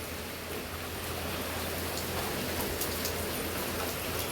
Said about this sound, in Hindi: तेज बारिश आई है एकदम तक।